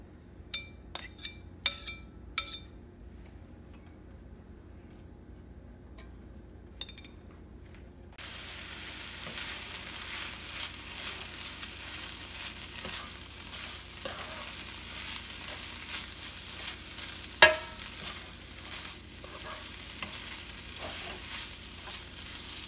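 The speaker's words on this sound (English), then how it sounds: "we stir fry it about 10 to 15 minutes on medium high heat or until the pork is dry up" Pounded pork stir-fried over medium-high heat for Cambodian dried pork flakes: a few light utensil clinks, then a steady, close sizzle of frying meat with occasional scrapes and a sharp clink.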